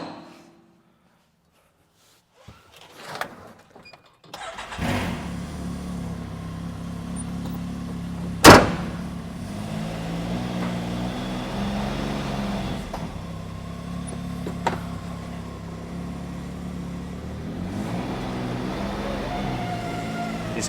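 Can-Am Maverick X3 side-by-side starting up after near silence, then a steady engine idle and low rumble as it pulls away, with a sharp clank partway through.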